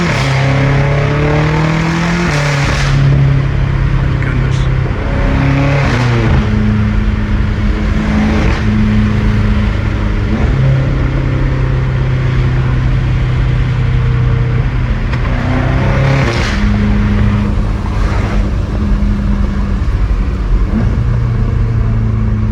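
A BMW M5 Competition with a fully straight-piped exhaust revs repeatedly, loud and close, its deep idle rumble broken by sharp blips and throttle sweeps that rise and fall several times without any talking.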